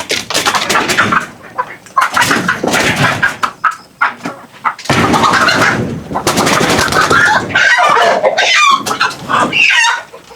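Native chickens in a coop with hens sitting on eggs, loud close clucking and squawking in busy bursts, with a few sharp knocking sounds among the calls.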